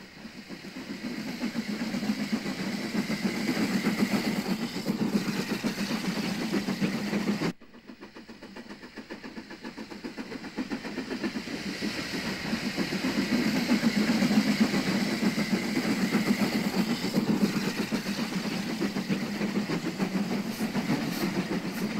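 Double-headed steam locomotives working a heavy train around Liverpool in the 1950s and 60s, a steady loud rumble of engines and rolling wagons with clickety-clack, briefly cut and then resuming as the train carries on.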